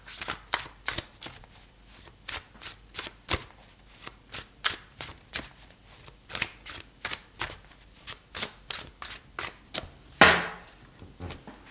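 Tarot cards are shuffled by hand in a steady run of crisp riffling slaps, over twenty even strokes close to the ear, with one sharper burst near the end and no speech over them.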